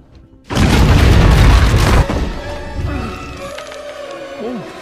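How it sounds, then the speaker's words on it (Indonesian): A bomb explodes in an Indiana Jones film scene, a sudden loud booming blast with a dense rumbling roar that cuts off and gives way to fading debris and lingering tonal noise. "begitu menyentuh dasar, bom itu langsung meledak hingga menghabisi para tentara Nazi"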